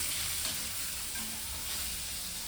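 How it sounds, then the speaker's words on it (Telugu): Ingredients being lightly deep fried in oil for a Telangana-style mutton curry, heard as a continuous, even bubbling sizzle close by with no talking over it. "లైట్గా డీప్ ఫ్రై చేస్తాను"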